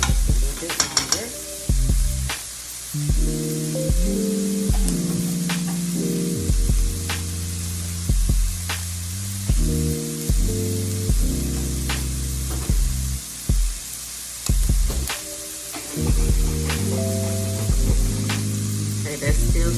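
Cabbage fries and browns in a pan for Cajun fried cabbage, a steady sizzle broken by repeated scraping and stirring strokes, close and clear, with a few brief spoken words between the stirs.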